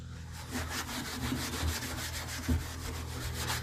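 Steel wool scrubs steadily against the painted body of a 1967 Datsun Roadster Fairlady, giving a continuous close-up rasping rub with quick back-and-forth strokes and no talk.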